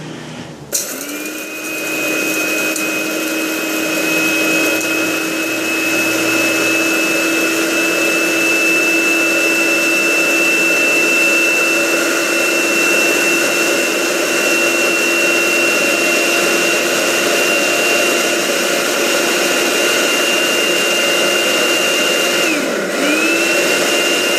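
A loud, steady motorized whir of a coffee grinder running continuously for about twenty seconds, starting abruptly and winding down at the end.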